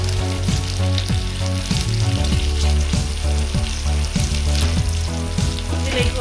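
Chicken biryani meat mixture frying in ghee in a pan, a loud, steady sizzle with repeated low thuds and scrapes of a spoon working the mixture throughout, no talk.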